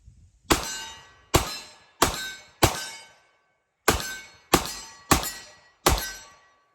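Eight sharp, loud 10mm pistol shots from a Colt Delta Elite firing PMC Bronze ammunition, coming in two groups of four at a steady pace with brief silence between them.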